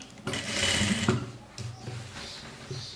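Sewing machine stitching a seam, backstitching over the seam line on a jumpsuit, a fast whirring run of needle strokes that stops after about a second, followed by quieter mechanical clicks and handling.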